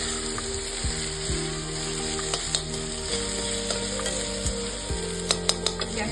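Onions fry in hot oil until brown, a loud, steady sizzle with an even crackle, cut by several sharp taps and scrapes of a spoon against the pan, no voices.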